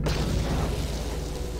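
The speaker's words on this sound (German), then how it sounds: "Explosion." A heavy explosion in Star Wars: Knights of the Old Republic, a loud, dense rumbling blast that fills the whole moment and holds steady without fading.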